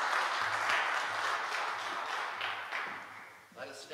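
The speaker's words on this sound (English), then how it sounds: "one more big round of applause as these folks go sit down." Church congregation applauding during Sunday worship, a moderate patter of clapping with a voice speaking over it, fading toward the end.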